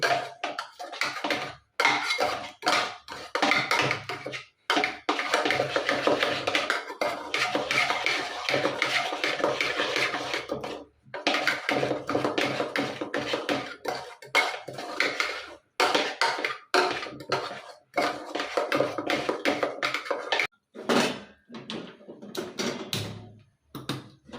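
Repeated clinks and scrapes of a spoon working against a vessel, an irregular rhythm of close metallic knocks as soft cooked greens are pressed and mashed.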